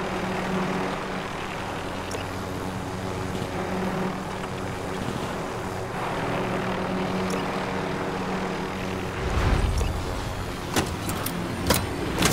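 An aircraft engine in Call of Duty: Warzone hums as a continuous drone throughout, with a louder rumbling swell near the end and a few sharp clicks.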